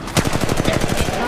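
Rapid automatic gunfire in Apex Legends Mobile, a steady burst of about a dozen evenly spaced shots, loud and close with no talking.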